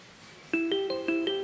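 A phone ringtone begins abruptly after a quiet moment, playing a quick repeating electronic melody of clear bright tones at moderate loudness, with no talk over it.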